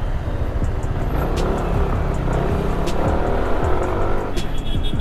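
Busy holiday-season road traffic on EDSA, with steady engine rumble from cars passing close by and occasional tire hiss, continuous and loud throughout.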